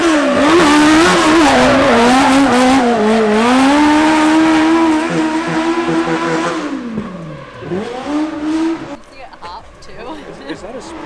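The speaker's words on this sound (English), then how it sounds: "Is that a motorcycle engine in there" A race car powered by a 1200cc Yamaha motorcycle engine, set up for drifting, revs loud and close with a high, sweeping engine note that holds, then drops and fades into rougher, quieter idling.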